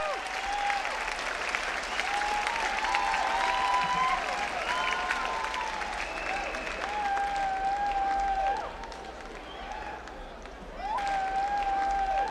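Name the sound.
crowd applauding at a bodybuilding show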